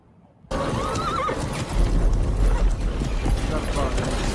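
Horses whinny loudly in a film scene, one rising neigh standing out over steady clip-clopping hooves and rattling tack, the sound sustained and close throughout.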